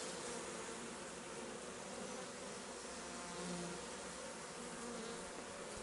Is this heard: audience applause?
no